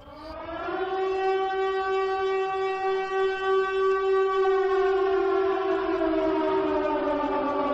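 A long, loud wailing Siren Head siren in a video game rises and holds a steady tone, then slowly slides down in pitch near the end.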